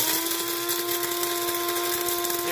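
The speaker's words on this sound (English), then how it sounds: "You gotta make a little noise to make your coffee, especially if you're gonna use a rotary grinder." A rotary coffee grinder grinding coffee beans gives a steady high-pitched motorized whine with a gritty, crunching rasp, loud and close, with no talking.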